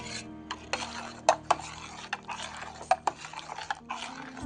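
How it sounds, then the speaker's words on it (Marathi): A spoon stirs and scrapes through curdling milk in a pot as paneer is made, making irregular rasping strokes and light metallic clinks up close with no voice. "चमच्याने आपण चांगलं हलवून घ्यायचं थोडंसं"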